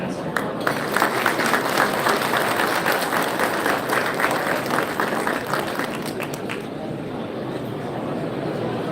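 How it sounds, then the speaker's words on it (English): Loud, dense applause from an audience welcoming the ambassador at a Korea–US alliance event at the Kennedy Center, a steady roar of clapping that lasts throughout, with a faint murmur of voices underneath. "please join me in a warm round of applause for the ambassador"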